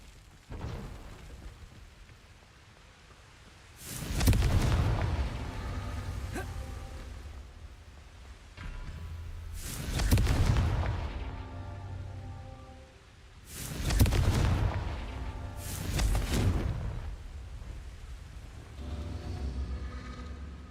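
Confringo blasting spell explosions in Hogwarts Legacy: three or four heavy, booming blasts with crackling tails that rumble and fade over a few seconds, spaced apart under a low ambient background.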